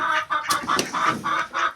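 A hen clucks in short repeated bursts close by, a steady rhythmic series of calls in a farmyard with no one talking.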